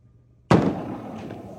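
A bowling ball crashing into pins: a sudden loud impact after brief quiet, followed by a clattering, rattling decay that fades over about a second.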